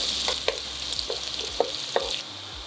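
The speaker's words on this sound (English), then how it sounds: "add cumin seeds, onions, saute it for a minute" Cumin seeds and onions sautéing in warm oil in a pan, a soft continuous sizzle punctuated by several light clicks and scrapes of a stirring spoon, fairly quiet and close.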